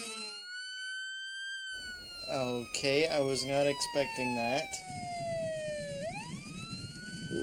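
A loud, wailing emergency siren sweeps up and down the whole time, sounding from an ambulance on a driving-test course. Someone speaks over it partway through, and the siren's pitch drops and then rises again near the end.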